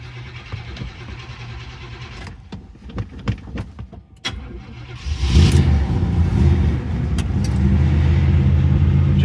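An old car with a faulty ignition cranks with scattered clicks and rattles, then the engine catches around midway and settles into a loud, steady idle close by.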